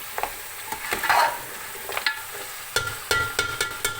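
Mutton pieces stir-fried for korma in a pot, crackling sizzle under repeated sharp scrapes and knocks of a stirring spoon, close and moderately loud with no speech.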